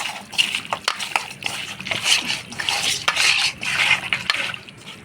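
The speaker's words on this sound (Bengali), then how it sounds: "হলুদ লবণ টক দই অল্প সরষার তেল দিয়ে ভালো করে মাংসটা মাখা নিয়ে" Mutton being mixed by hand with turmeric, salt, sour yogurt and mustard oil, giving steady wet squelching and sloshing with light clinks of a bowl, close and continuous without speech.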